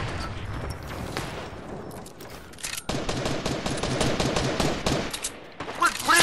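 Rapid bursts of automatic gunfire in a shooter video game, loud and dense with repeated sharp cracks and a brief lull midway before the shooting intensifies again.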